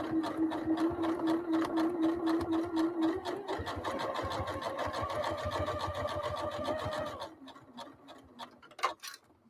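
A sewing machine stitches quilt pieces with a fast, steady mechanical whir and rapid needle ticking, slowing and changing pitch briefly for a back stitch before stopping, with faint handling clicks at the end.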